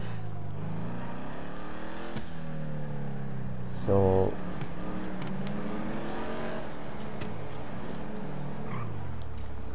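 An Imponte Ruiner muscle car engine in GTA V revs through rising and falling sweeps with a sharp burst midway, sounding loud and close while someone speaks briefly over it.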